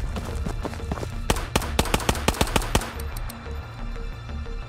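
Rapid run of about eight sharp gunshots in the video game Ghosts of Tabor, loud and close, firing in quick succession over steady low ambient rumble, with quieter tonal game sounds before and after.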